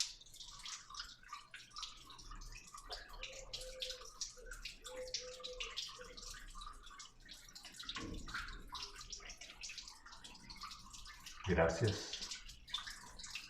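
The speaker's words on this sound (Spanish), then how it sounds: "Me encanta el canto del agua." Water trickles and drips steadily at a low level, with soft gurgling throughout and a brief louder splash near the end, while a person speaks briefly.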